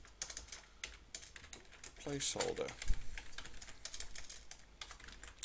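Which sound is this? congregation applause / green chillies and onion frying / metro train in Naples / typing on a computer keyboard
typing on a computer keyboard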